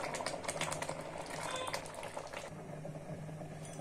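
Vegetable dal simmers to thicken in a pot after coming out of the pressure cooker, a dense continuous bubbling and popping with fast, irregular ticks throughout, close by and steady.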